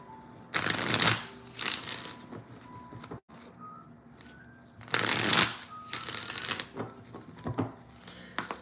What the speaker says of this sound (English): I want to do the 3 shuffle on each one,